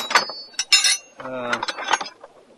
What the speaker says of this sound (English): And then I've got a bunch of wrenches down here.